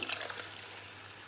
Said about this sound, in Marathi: आता याच्यामध्ये घालायचं आहे पाणी.